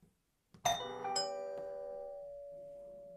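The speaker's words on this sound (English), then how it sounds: "Test your chime." A Nest Doorbell Wired (2nd generation) sounds its chime during setup: two bright, bell-like tones struck in quick succession, then a long, clear ringing tail that slowly fades, with no voices.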